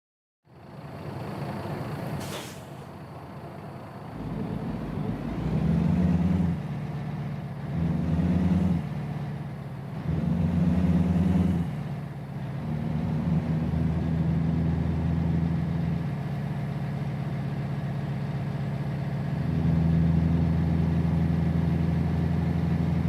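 A heavy truck engine in American Truck Simulator idles and revs, its low rumble rising and falling in several pulses before settling into a steady drone.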